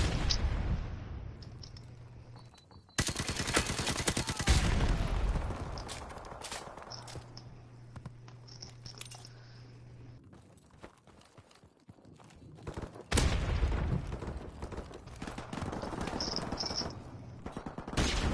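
Gunfire in the Modern Warfare Remastered video game, with sharp bursts of automatic fire and loud shots breaking out in clusters between quieter stretches of game ambience and footsteps.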